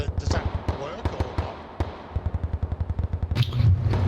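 Gunfire in the video game Bellum, with scattered single shots giving way to a fast, rapid burst of rhythmic reports, close and loud, with a few other noises mixed in.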